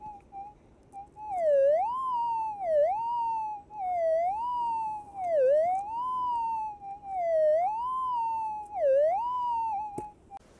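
Metal detector tone through headphones as the coil sweeps over a target in river gravel on high bedrock while prospecting for gold: a steady warbling electronic whine that rises and dips in pitch about every second and a half, loud and alone.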